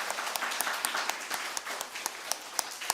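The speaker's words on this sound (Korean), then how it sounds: "격려 박수하겠습니다." Scattered clapping from a congregation during a Korean church worship service, fairly quiet and steady, with sharper individual claps standing out across three seconds.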